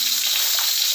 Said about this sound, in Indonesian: Aku mau tumis bawang merah sama bawang putih sampai harum.